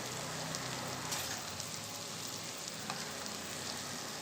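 Ginger paste frying in a pan of oil for egg biryani, a steady, dense sizzle close by that holds evenly throughout with no talk.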